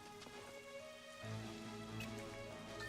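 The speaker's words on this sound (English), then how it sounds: "It is raining." Rain in the video game Troubleshooter, a soft, steady patter of drops at low level that thickens a little partway through, with no voices.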